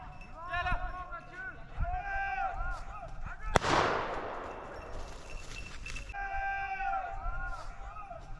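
A single sharp shotgun blast rings out during a partridge and pheasant hunt, its echo trailing off, while birds chirp and call before and after and voices murmur in the background.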